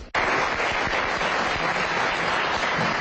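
A crowd at a Rotary Club of San Francisco honors ceremony breaks into sudden, dense applause that starts sharply and holds steady and loud for a few seconds.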